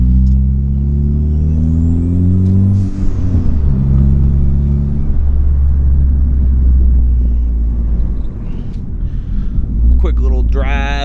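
Ford Focus MK3 with a Sidewinder engine swap, revving hard while driving, a loud, close, droning engine note rising and falling in pitch through gear changes.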